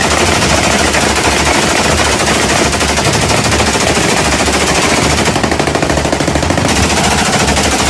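Sustained automatic gunfire from Syrian mercenary fighters on the Azerbaijani side of the Armenia-Azerbaijan war, firing toward Armenian troops: dense, continuous bursts of loud rifle and machine-gun shots throughout, with no talk.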